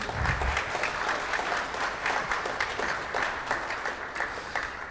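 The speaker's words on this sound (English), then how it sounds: "Please give them an applause." Audience applause for a group of musicians playing a live-streamed performance, soft, steady clapping from a small gathering, fairly distant and continuous throughout.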